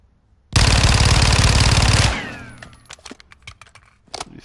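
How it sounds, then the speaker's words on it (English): Fennec submachine gun fired in a rapid sustained burst in the video game Modern Warfare 2, loud and close for about a second and a half, then fading echoes and scattered clicks and impacts. "Your Fennec, your fast shooting gun."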